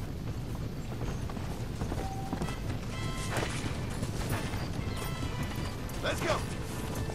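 Horse hooves clatter in Red Dead Redemption on the PS3, a busy, uneven run of hoofbeats and rattling mechanical noise that goes on steadily at moderate loudness.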